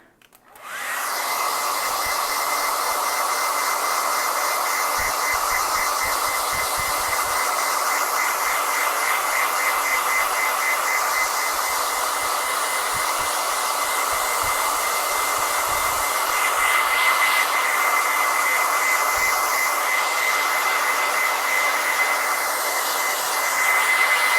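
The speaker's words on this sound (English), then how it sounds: "I'm just going to go in and blow dry this" A hair dryer switches on and blows continuously at full strength for the whole stretch, a loud, steady rushing whoosh with a faint whine, used to dry chalk paste on a craft project, no voices.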